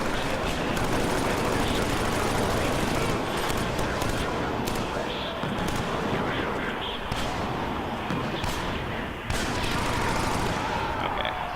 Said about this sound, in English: This is a very fast-firing machine gun, but it is also incredibly inaccurate.